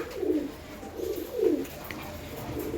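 Pigeons in a Bengali loft coo in soft, rolling bursts, about four rounded phrases repeating one after another, close by and fairly quiet, with no talk over them.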